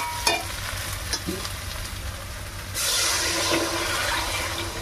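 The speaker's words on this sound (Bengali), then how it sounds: "এবার আমি জল ঢেলে দেবো।" Water pours into a hot pan of fish curry, rui fish with gathi kochu, giving a sudden broad rushing hiss over a constant sizzling frying background.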